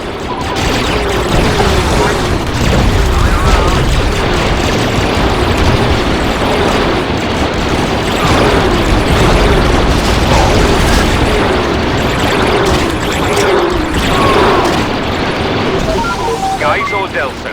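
Continuous battle din in the video game Star Wars Battlefront 2 (2005) with repeated booms and bursts of gunfire, loud and dense, with voices shouting over the chaos.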